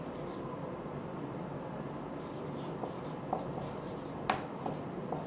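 Faint scratching strokes of writing a maths solution on a board, soft and intermittent with a few sharper taps, over a steady low background hiss.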